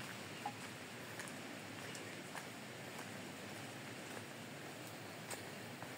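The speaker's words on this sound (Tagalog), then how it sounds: "Parang may naririnig ako ng agos." Steady broadband rush of flowing water below a reservoir dam, heard continuously from a moderate distance with a few faint intermittent ticks and no speech.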